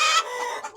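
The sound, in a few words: chickens clucking in a cage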